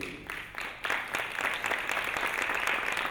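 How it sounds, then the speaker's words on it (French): Audience applause at a French panel discussion, a dense steady patter of many hands clapping at moderate distance, building slightly after a brief lull and continuing throughout with no talk over it. "On peut applaudir le plaidoyer."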